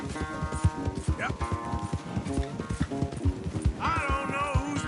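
Horses galloping in the Red Dead Redemption 2 video game, a rapid, continuous clip-clop of hooves close by, with a whinny partway through and characters talking over the running.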